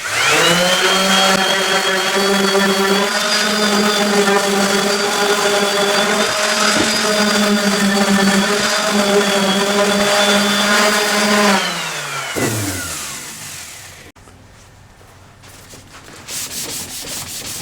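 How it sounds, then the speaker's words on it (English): Power sander working the edges of painted kitchen cabinets, a loud steady whirring hum with harmonic tones that winds down and stops, followed by quieter handling noises. "And sanding again, I'm pressing down on this area and this little edge over here"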